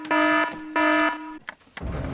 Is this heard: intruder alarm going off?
yes